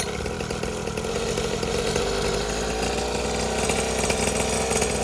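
Engine of a 49cc mini moto dirtbike running with a loud, buzzing two-stroke drone, close by and steady with slight rises in pitch as it revs.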